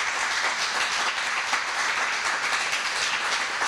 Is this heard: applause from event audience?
yes